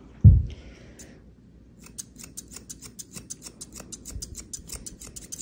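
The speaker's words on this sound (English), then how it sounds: "So on either side of the big pad, I'm going to trim just that hair off right there." Small scissors trimming the hair beside the big pad of a dog's front foot: a brief rustle, then a rapid run of crisp, light snips close by, quiet and without voices.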